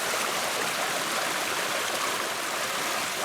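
Water in a stream rushes steadily and continuously, a close, even hiss with no voices.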